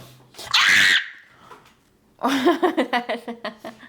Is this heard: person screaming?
yes